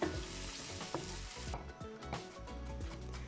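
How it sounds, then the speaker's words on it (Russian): Chopped garlic sizzles steadily in a hot pan with mushrooms, a continuous crackling fry with occasional soft clinks and scrapes of stirring. "Отправляем нарезанный чеснок в сковородку к грибам и обжариваем буквально 30 секунд"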